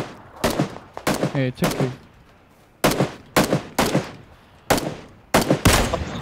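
Several bursts of rapid automatic gunfire in the battle royale game PUBG (Battlegrounds), loud and close, coming in irregular clusters of sharp shots with a player briefly talking between bursts.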